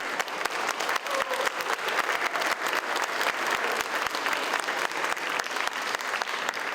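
An audience applauds at a public event on indigenous peoples in Mexico City, a sustained, even wash of clapping from a crowd with a few sharper individual claps standing out.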